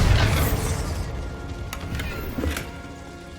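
A Bombarda spell explosion in Hogwarts Legacy hits with a loud, close boom at the start and then fades, followed by a couple of faint crackles and pops.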